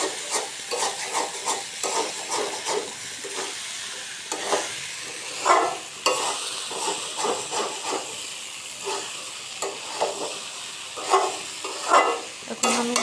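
Vegetable bhaji sizzles and hisses in a pan with a steady frying sound, broken by repeated scraping and stirring strokes, close and fairly loud, with no talking.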